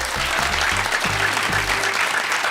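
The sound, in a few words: quiz show audience applause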